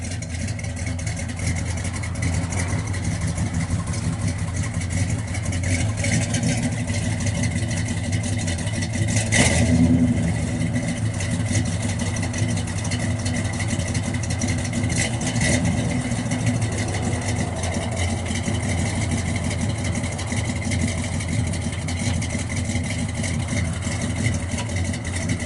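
A 1971 Pontiac LeMans GT-37 with twin tailpipes idles steadily from behind, a low, even rumble that stays constant throughout, with a brief louder blip partway through.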